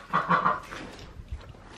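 Chickens in a barn give a quick run of three close clucks, then a fainter low grumble and a couple of soft thumps.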